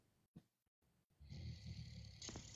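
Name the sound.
someone snoring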